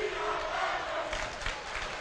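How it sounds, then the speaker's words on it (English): Rowdy crowd at a women's college basketball game between Salt Lake Community College and Snow College, chanting in unison from the stands, a steady roar of many voices at moderate distance across the whole stretch. "The Rowdy crowd chanting, "We are Badgers.""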